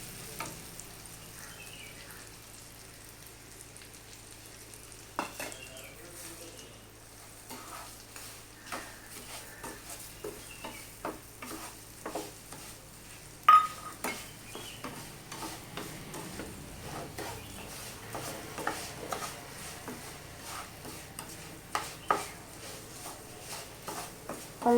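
Banana pieces fry with sugar in a pan, a soft continuous sizzle broken by scattered sharp ticks and scrapes of stirring, close and fairly quiet, with no talk.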